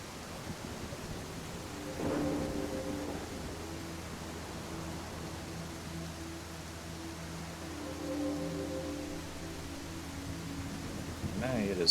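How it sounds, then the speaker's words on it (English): Stormy weather with a continuous hiss of rain and wind, with low rumbles and tonal swells rising around two and eight seconds, steady and fairly loud throughout. "Now it is stormy."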